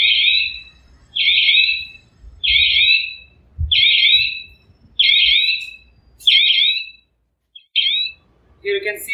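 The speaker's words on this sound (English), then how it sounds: "Once we get this buzzer alert, an operator can understand that the tooth has fallen in the vehicle" Geofence breach buzzer alarm from a tracking system on an excavator, a JCB whose bucket tooth has fallen into a vehicle: a high electronic chirping alert repeating in seven regular bursts, loud and close, with a low rumble faintly beneath.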